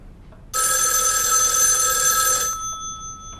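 A telephone rings in a late-1940s Beiping spy drama scene, a bright, steady electric bell that sounds continuously for about two seconds and then stops, with only a faint lingering tone afterward.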